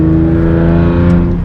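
A modified Hyundai Genesis Coupe 3.8 R-Spec V6 with an aftermarket exhaust drones loudly at steady low revs, a deep continuous rumble close by with no talking.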